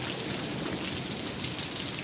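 Heavy rain pours down during an Arizona thunderstorm, a dense, loud, continuous hiss of drops on surfaces with no breaks and no voices.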